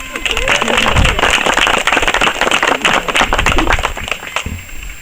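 Guests at a wedding ceremony applaud in a dense, lively clatter of many hands that fades out at the end, with voices mixed in the crowd noise.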